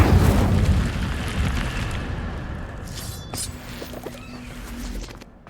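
Fire spell cast in a wizarding video game, a heavy burst of roaring flame hitting loud at the start, then crackling and fading over several seconds, with small pops and chimes trailing off.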